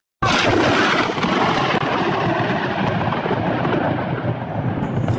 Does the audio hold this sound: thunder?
yes